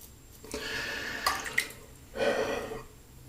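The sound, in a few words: shaving touch-up with a Gillette double-edge safety razor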